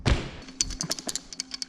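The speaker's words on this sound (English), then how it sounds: "The bolt that's actually making noise is the interior compression bolt." A loose interior compression bolt on a cheap $10 scooter at a skatepark knocks after an initial heavy thud, then gives a string of sharp, irregular taps and rattles close by.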